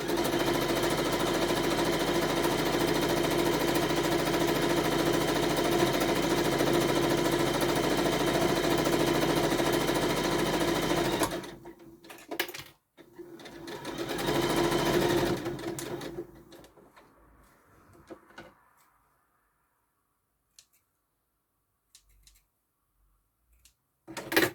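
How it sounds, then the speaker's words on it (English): A sewing machine stitching around a small handbag runs in a fast, even, close mechanical whir for about eleven seconds, then stops, gives a short second burst, and leaves near silence with a few faint handling clicks. "you can slide the whole bag on, tuck the handles under and sew it all the way around"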